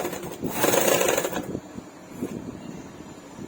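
A domestic sewing machine runs a short burst of stitching along a blouse seam, loudest in the first second and a half, then drops to a quieter mechanical hum and rub.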